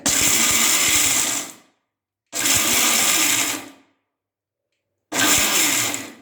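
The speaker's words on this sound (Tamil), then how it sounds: "இப்போ அடிச்சிக்கலாம். எல்லாம் குறன்னு அரைச்சிக்கலாம்." A mixer grinder coarsely grinds ragi bonda batter in three loud bursts with sharp starts. Each burst whirs steadily for about one to one and a half seconds, then winds down into silence.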